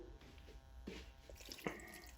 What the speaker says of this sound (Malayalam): ഇനി വെള്ളം ചേർത്തു ആവശ്യത്തിന്.